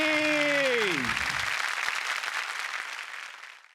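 Audience applause on a Marathi comedy stage show, a strong burst of clapping that starts loud over a fading tonal sting and gradually thins out before stopping.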